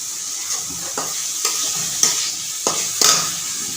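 Leftover rice being stir-fried in a pan: a steady, close hiss of sizzling with a spatula scraping and knocking roughly every half second, and no talk.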